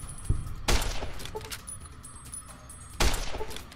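Gunfire in the modded game Fallout New Vegas: three sharp, loud shots spaced about a second apart, each with a short ringing tail, plus a lighter click between them.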